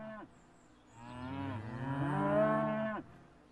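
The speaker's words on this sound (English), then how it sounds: "Yes, a herd of cows." Cattle mooing: one long, loud, drawn-out moo rising and falling, with other lowing voices nearby, no talking.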